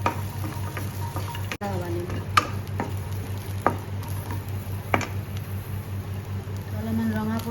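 Dry fruits are dry-fried without oil in a hot kadai, a soft sizzle broken by scraping stirs and a few sharp knocks, while someone talks over it.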